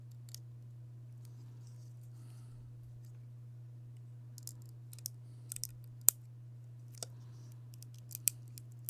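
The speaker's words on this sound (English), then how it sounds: "Scissors." Scissors snipping at a cosplay workbench while fabric and fishing line are prepared; a few quiet, sharp cuts and clicks scattered over a steady low electrical hum, close and fairly faint.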